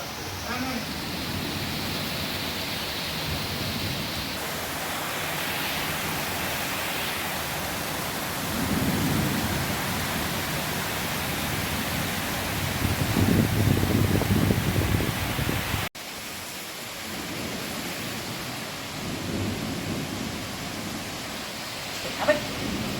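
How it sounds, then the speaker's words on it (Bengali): Heavy monsoon rain pours down during a storm in South Bengal, a dense, steady roar of broadband hiss that swells midway and continues after a brief drop, with faint voices now and then. "বেশ ভালোই জোরে বৃষ্টি হচ্ছে দেখো ঝমঝম করে"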